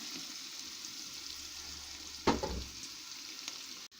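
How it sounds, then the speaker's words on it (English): Green peas fry and steam in a pot of fried rice, giving a steady, loud hiss with one brief sharper sizzling burst partway through as the pot is stirred. "I have to allow the green peas to steam a little while."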